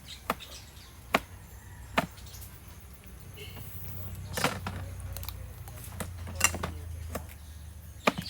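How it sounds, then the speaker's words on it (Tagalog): Knife chopping through a fresh, unblemished eggplant (talong) on a cutting board for pakbet, with sharp chops landing about once a second, close and distinct over a low background hum. "Hiwain lang natin, isa-isahin natin hiwain."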